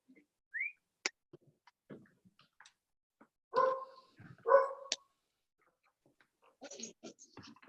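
A corgi barks in a few sharp, close bursts spaced across quiet pauses, with a couple of louder double barks in the middle and softer yips toward the end.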